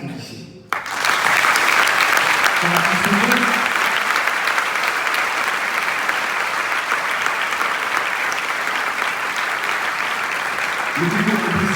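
Audience at a TV fiction festival opening ceremony applauding, a dense, sustained wash of clapping lasting several seconds, with a voice speaking briefly under it at the start and end.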